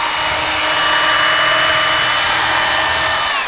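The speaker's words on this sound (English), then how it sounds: "You can use the corded fiberglass cutting wheel and it'll cut curves and complex." A corded fiberglass cutting wheel grinds through fiberglass with a loud, steady, high-pitched whine and constant motor drone, close and unbroken throughout.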